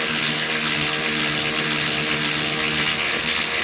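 A cordless power tool whirs continuously at close range, loud and steady, driving long bolts on a BMW 535i water pump.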